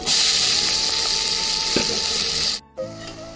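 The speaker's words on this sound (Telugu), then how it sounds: "ఈ ఆయిల్లో ఇప్పుడు మనం ఉల్లిగడ్డ వేసుకుందాం" Onions dropped into hot oil in a home kitchen give a loud, steady hiss that fills most of the moment, then cuts off abruptly near the end and settles into a quieter hum.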